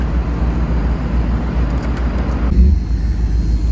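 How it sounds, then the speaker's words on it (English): Steady low engine rumble of a truck pushing a car down the street close by, a broad continuous drone that shifts slightly partway through, with no talking. "We're pushing the Vic with my truck."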